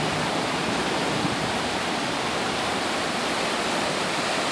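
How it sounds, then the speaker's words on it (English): Flooded creek in a Tahitian village rushing over and washing out a road, a loud, dense, unbroken roar of churning water heard close by for several seconds with no voices. "the water is running over the road, washing the road out"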